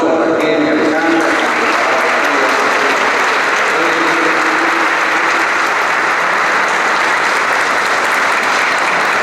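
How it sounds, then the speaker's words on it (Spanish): A congregation applauds inside the Buenos Aires cathedral during a solemn Mass, a dense, sustained wash of clapping that fills the reverberant space loudly from start to finish. "Todos ya le damos un aplauso a Raquel y a Alejandra."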